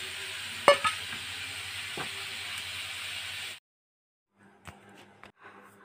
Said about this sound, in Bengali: আমি দেখো পনিরগুলোকে ভেজে নিচ্ছি